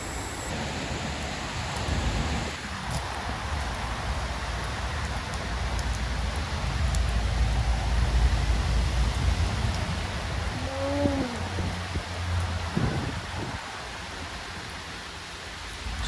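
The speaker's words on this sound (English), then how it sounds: "Just what we love in Manchester, rain." Rain falls steadily on a gazebo outdoors in Manchester, a soft continuous hiss of drops on the surface, fairly faint, with a brief tonal chirp partway through.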